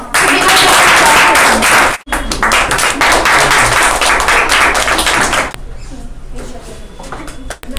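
A crowd claps in dense, continuous applause that cuts off sharply and leaves a quieter room with faint murmuring.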